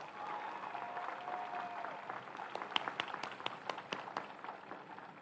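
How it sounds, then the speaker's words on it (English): Applause from a commencement crowd for graduating students, starting as a soft rushing wash and growing into distinct, scattered claps that rise in the second half. "Let's give our students a round of applause."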